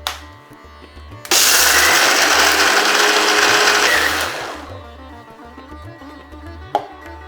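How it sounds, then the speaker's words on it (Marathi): A kitchen mixer grinder whirs loudly and steadily for about three seconds as it blends a fasting chutney with curd and sugar, then runs down and stops, with quiet clinks before and after. "ही चटणी अगदी बारीक मिक्सरला वाटून घेऊ"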